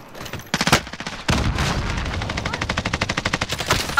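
Gunfire in a shooter game: a few sharp shots, then a long rapid automatic burst with a steady stuttering rhythm, loud and close.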